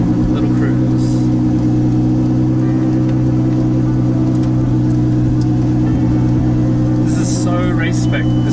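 A Ferrari 488 Challenge Evo race car pulls away in first gear, its engine a loud, steady, close drone with strong low harmonic hum throughout and light mechanical whir above.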